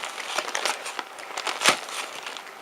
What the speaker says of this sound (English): rubber plugs in there you gotta cut through